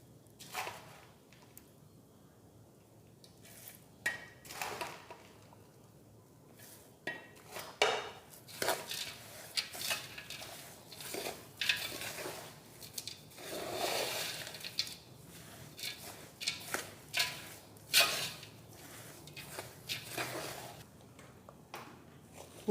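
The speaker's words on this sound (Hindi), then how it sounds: "इसी तरह से सारा ड्राई फ्रूट डाल दें, मिक्स कर लें" A spoon scrapes and clinks steadily against a pan while dry fruits are stirred and mixed together, the quiet, irregular rattling and knocks continuing throughout with no talk over them.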